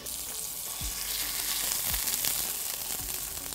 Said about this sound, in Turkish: O yani etin iz aldığı, mühürlendiği, tamamen bize kabuk oluşturacak o sesi duymamız gerekiyor.